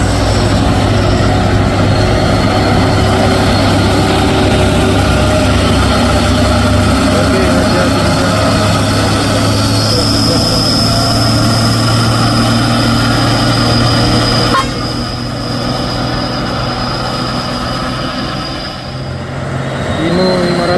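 A Hino 500 6x4 truck engine runs steadily throughout, a loud continuous low rumble with a constant drone that eases slightly near the end.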